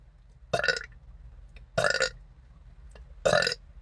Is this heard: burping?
yes